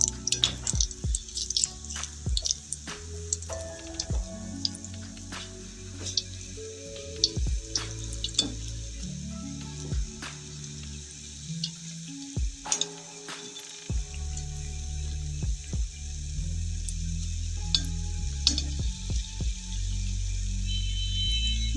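Chocolate donuts made without yeast fry in hot oil, giving a continuous bubbling crackle with scattered pops and drips, close and steady throughout.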